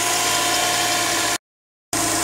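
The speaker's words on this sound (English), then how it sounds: "And I've got the motor running" A Subaru engine idles steadily and close by, a continuous even hum broken by a brief cut to silence before the idle resumes.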